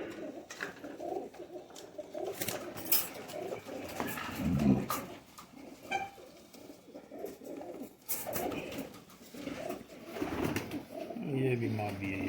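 Kasuri high-flyer pigeons coo softly in low, throaty bursts amid rustling and shuffling, with faint voices in the background.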